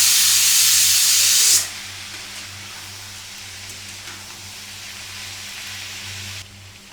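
Sliced bitter gourd frying in a pan gives a loud, close hiss for the first second and a half, then settles into a quieter steady sizzle that continues to the end.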